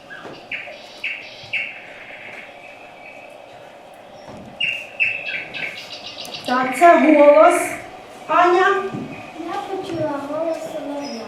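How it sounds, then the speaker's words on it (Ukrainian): Recorded nightingale song plays for schoolchildren in a classroom, rich warbling phrases and trills at moderate loudness, mixed with quieter chirps and some background talk. "солов'я"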